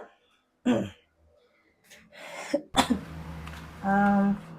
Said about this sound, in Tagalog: May ubo ako ngayon.